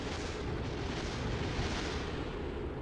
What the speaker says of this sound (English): I think those might be struts blowing up